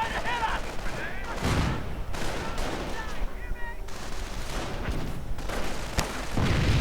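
Mortar and rifle fire crack and thud through a World War II strategy game battle against German positions, with repeated shots and booms in a dense barrage, while a commentator talks over it.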